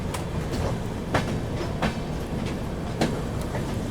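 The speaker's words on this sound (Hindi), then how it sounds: "फिलहाल अपनी ट्रेन जो है यहाँ पर कटनी जंक्शन स्किप कर रही है" The 12141 Patliputra SF Express, a passenger train, runs through Katni Junction without stopping. Steady rolling rumble with repeated wheel clacks over rail joints, heard close and continuous with no talk.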